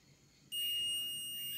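A multimeter set to continuity lets out a sudden, steady electronic beep when its probes are shorted together; the tone starts partway through and holds, loud and clear over a quiet room.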